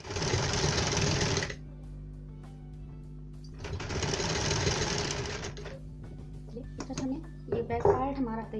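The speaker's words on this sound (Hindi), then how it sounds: "अब हम इसके बिल्कुल किनारों पर एक सिलाई लगाएंगे, बिल्कुल किनारों पर" A sewing machine stitches along the edges of a cowl neck top in two loud, rapid bursts separated by a pause, followed by quieter handling noises.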